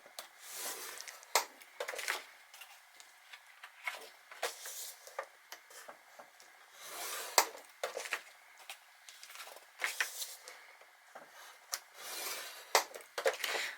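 A bone folder or stylus is drawn along a paper scoreboard to score paper for a beginner mini album. It makes a series of short, dry scraping strokes in bursts with quiet gaps between them and no talking.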